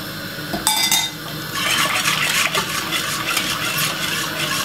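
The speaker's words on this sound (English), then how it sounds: "Just keep whisking it, it's gonna get really thick." Cornmeal porridge being whisked in a pot, a steady scraping, clinking stir with a sharp metallic knock near the start, close and moderately loud with no voices.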